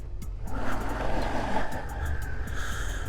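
A 2003 Suzuki SV650 motorcycle engine runs close by, a steady low rumble with slight swells as it prepares to pull away.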